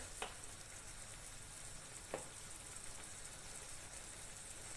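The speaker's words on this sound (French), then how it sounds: "Bon, là je vais laisser mon mélange bien cuire pendant 2-3 minutes" A wheat and gizzard mixture with Moroccan chili frying in a pan, a faint steady sizzle with two soft clicks of a utensil, and no talk.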